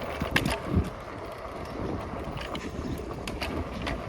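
A scooter rides along a quiet side street, making a steady rolling rumble with wind buffeting the microphone throughout and a few brief rattles near the start.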